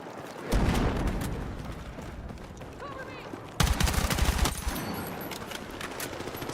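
M4 rifle fire in Battlefield 6, bursts of rapid automatic shots with a heavy low thump, one at the start and a louder burst midway, amid a busy battle soundscape.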